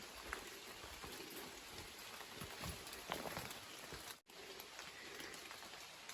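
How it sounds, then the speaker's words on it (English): Light rain falls on a forest hiking trail in the foothills, a soft, continuous hiss of drops on leaves and ground. It is faint and even, with scattered nearby patters and footfall-like thuds. "So it's raining again."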